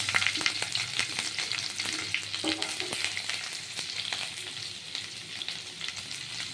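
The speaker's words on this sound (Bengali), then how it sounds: "আমি এর মধ্যে তেল ছেড়ে দিয়েছি এরপরে রসুন আর কাঁচা লঙ্কা ছেড়ে দিলাম" Garlic and green chili fry in hot oil for chow mein, giving a steady close-up sizzle with scattered spatula clicks and stirring throughout, and no voices.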